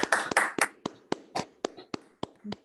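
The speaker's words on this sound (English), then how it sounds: "So let's have a round of applause for yourselves, for everyone, this wonderful group of people." Small group clapping for themselves at an art event: a short run of about a dozen sharp, separate claps, the first few dense and overlapping, then evenly spaced single claps close to the mic.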